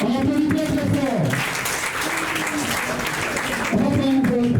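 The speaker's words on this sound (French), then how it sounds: "On applaudit très fort." Audience applause at a recognition ceremony held by the CCAK of Koumassi, a broad steady wash of clapping running the whole time while a voice speaks over it at the start and again at the end.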